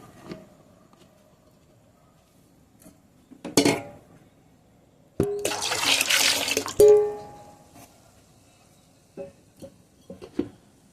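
Water poured into a bowl of soaked wheat while it is rubbed to draw out the starch for crisp kurdai: a short splashing pour in the middle, with scattered clinks of utensils before and after in a quiet kitchen.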